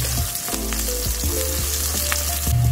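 Garlic sizzles and crackles in hot oil as it fries to golden brown before pork goes in, a steady close frying hiss with stirring clicks and scrapes throughout.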